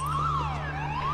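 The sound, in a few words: alarm going off in a film scene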